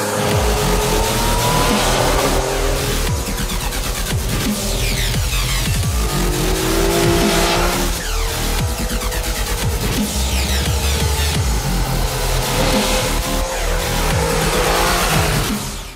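Yamaha Tracer 900 three-cylinder motorcycle engine on a test ride, loud and continuous, with repeated revving surges and gear changes across the whole stretch, no talking over it.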